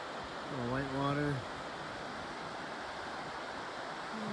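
Rushing white water at Yosemite pours as a steady, broad hiss of falling water, while a voice talks over it at the start.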